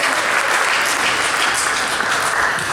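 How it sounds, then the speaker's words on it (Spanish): A congregation at a Catholic Pentecost retreat claps for the Lord, a steady, dense wash of applause filling the room evenly from start to finish with no talk over it. "Un aplauso al Señor."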